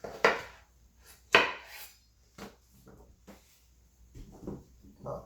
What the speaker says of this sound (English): You like my knife skills?